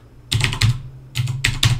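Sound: typing a command on a computer keyboard

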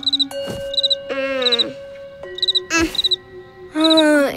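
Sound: cricket chirping in a cartoon

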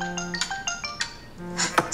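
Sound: phone ringing

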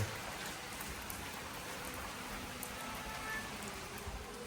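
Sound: rain falling

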